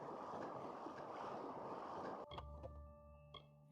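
Broad steady rushing of a waterfall in the video game Kingdoms of Amalur: Re-Reckoning fills the first two seconds, then cuts to quieter game ambience with sustained tonal hums and a few soft clicks.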